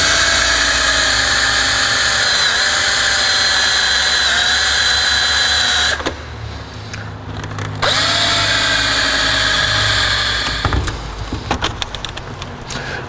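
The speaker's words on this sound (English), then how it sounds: "I may have to drill out these little" Power drill boring into the fuse box of an Acura Vigor, a loud steady high whine running for several seconds, breaking off around the middle, then resuming with a few short stuttering bursts near the end.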